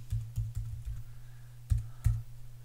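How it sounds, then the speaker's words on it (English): Someone types an IP address on a computer keyboard, giving a short run of close, light key clicks followed by a couple of firmer taps near the end. "all I would do is now type in"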